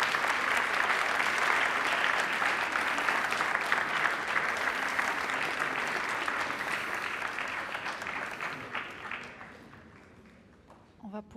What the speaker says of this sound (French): Je vous propose de rendre hommage à l'action des enseignants et à applaudir le travail des enseignants.